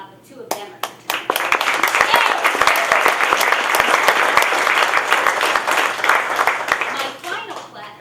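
An audience at a young writers' short play festival claps, with the applause swelling quickly into a loud, sustained wash of many hands and some crowd noise, then tapering toward the end.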